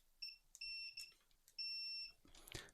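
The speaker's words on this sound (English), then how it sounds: "Multimeter in continuity mode, which is the mode that is going to beep." Multimeter in continuity mode during electronics repair, emitting several short high-pitched beeps of uneven length, close and clear, followed by faint handling clatter.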